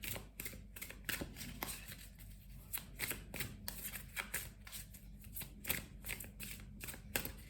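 Gilded tarot cards are shuffled by hand in a series of quick, crisp riffles and flicks, close and fairly quiet, with no speech.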